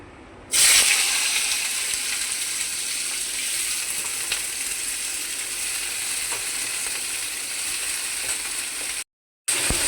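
Food frying in hot oil while potatoes and meat are cooked for a home lunch; a steady, close bright sizzle runs continuously with no talk, cutting out briefly near the end.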